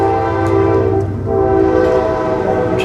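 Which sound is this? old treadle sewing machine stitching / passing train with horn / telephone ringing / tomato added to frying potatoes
passing train with horn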